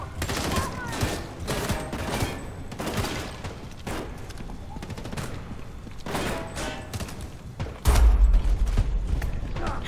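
Gunfire in Homefront The Revolution, a video game, with repeated bursts of shots in uneven clusters and a louder, heavier burst near the end, all close and prominent.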